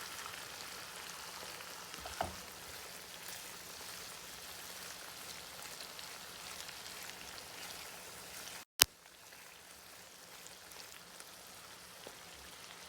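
Seafood, mushrooms, onions and steaks sizzle steadily on a grill, a continuous crackling hiss with a few soft clinks, no voices over it.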